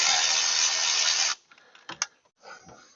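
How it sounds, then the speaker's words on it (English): A 14 mm socket ratchet loosening the alternator pivot bolt on a 2013 Hyundai Elantra gives a close, rapid clicking whir for over a second, followed by a few scattered metallic clinks and handling sounds. "let's grab a 14 and pull the one that it pivots on out"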